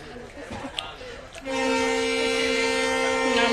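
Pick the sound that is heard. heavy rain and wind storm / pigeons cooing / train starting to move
train starting to move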